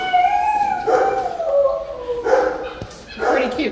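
A dog at an animal shelter gives a few loud, close barks and yelping howls in bursts, over a steady background and with voices mixed in.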